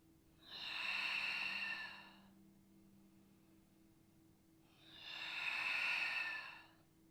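Two long, airy breaths during a Pilates exercise, each lasting about two seconds, sound close and soft, separated by a quiet pause over a faint steady hum.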